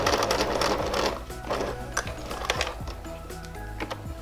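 A sewing machine stitching the scalloped binding edge of a quilt, needle thumping in a fast steady rhythm that slows and quickens, close and unaccompanied by talk.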